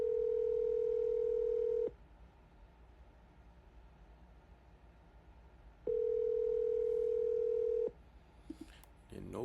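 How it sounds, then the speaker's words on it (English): A telephone rings unanswered on a business cold call: a long, steady ringback tone, a pause of about four seconds, then a second identical tone, followed by faint handling noises. "Nobody's answering the phone on this beautiful Monday."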